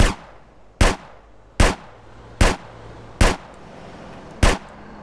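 Gunfire in the video game GTA San Andreas: six sharp, loud single shots spaced evenly about 0.8 seconds apart, each with a short decay, over a low steady game background hum.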